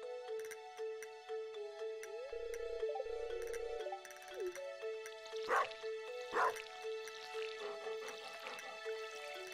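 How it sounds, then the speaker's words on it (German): The pet dog in the farming game Stardew Valley gives two short, sharp barks, clear and close, over gentle background music with light dripping sounds. "Da ist der Hund."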